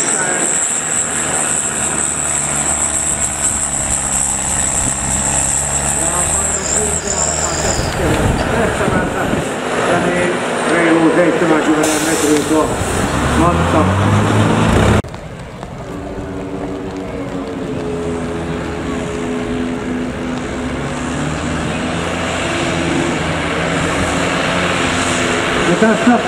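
A farm tractor's engine revs hard during a 4500 kg class tractor pulling competition, loud and continuous with rising and falling engine tones and a sudden drop in level partway, while an announcer talks over it.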